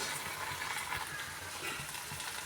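Tomato paste fries in hot oil, giving a steady, close crackling sizzle that runs unbroken with no talking.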